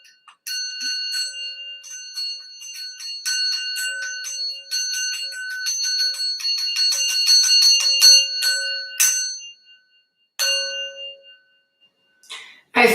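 A metal sound bowl struck and ringing repeatedly, bright sustained tones layering into a shimmering wash that rises, then fades with a couple of final separate strikes, clear and close with no talking.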